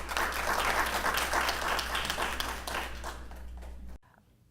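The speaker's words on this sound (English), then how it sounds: "Please let's give her a round of applause." An audience at an academic conference talk gives a warm round of applause, steady dense clapping that tapers slightly before stopping abruptly.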